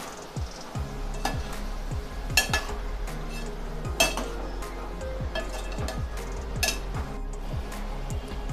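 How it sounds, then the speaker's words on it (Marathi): Vegetables for veg biryani are stir-fried in oil, with a spoon scraping and clinking against the pan in irregular close knocks over a faint sizzle. "आता आपल्याला ह्या भाज्या फुल ते मीडियम गॅसवरती 4 ते 5 मिनिटं छान तेल सुटेपर्यंत परतवून घ्यायच्या आहेत। ते एकसारखं आपण हे हलवून घेऊया।"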